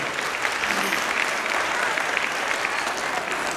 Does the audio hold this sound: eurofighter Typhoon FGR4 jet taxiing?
no